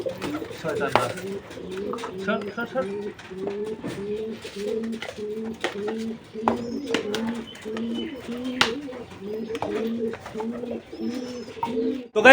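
Pigeons kept at home coo in a steady repeating rhythm close by, low rolling calls continuing throughout with faint rustling and occasional background sounds.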